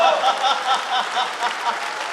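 Audience at a Hindi comedy poetry gathering during a Holi festival, clapping steadily in a dense, continuous round of applause that fills the whole moment.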